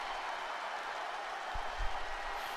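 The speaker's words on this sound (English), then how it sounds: "the crowd here in a sold-out arena is absolutely going for it" A sold-out arena crowd roars at a wrestling match, a broad, steady wash of cheering and applause that holds throughout, with a couple of low thumps near the end.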